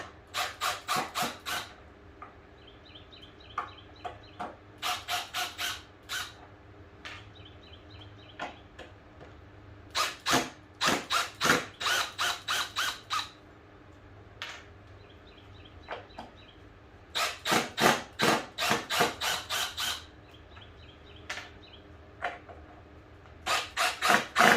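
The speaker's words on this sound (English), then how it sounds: "I'll take the tabletop off. It is just screwed on." Screws being backed out of a workbench tabletop screwed into 2x4s, heard as repeated bursts of ratcheting, rasping driver noise separated by pauses, close and fairly loud with no talking.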